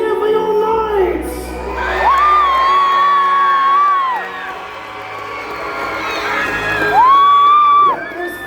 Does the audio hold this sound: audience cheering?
yes